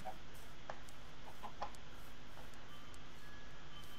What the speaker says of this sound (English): No eggs, chickens.